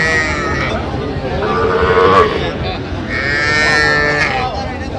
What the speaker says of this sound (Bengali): সুন্দর বাচ্চা ষাঁড় বাচ্চা